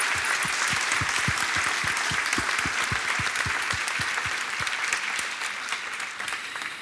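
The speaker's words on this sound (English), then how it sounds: "So I'd like to give a warm applause to the colleagues from EU-OSHA" An audience at a workplace good practice awards ceremony in Bilbao claps warmly, a dense sustained round of applause that holds steady and only eases slightly toward the end.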